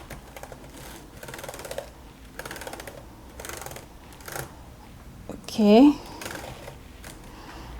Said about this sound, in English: I'm just typing